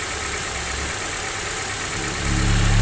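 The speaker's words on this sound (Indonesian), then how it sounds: "Ini mesin sudah dinyalakan." A 15-year-old used car's engine idling with the oil cap off during an inspection, a steady, close mid-pitched hum and vibration that swells slightly near the end, with no voices.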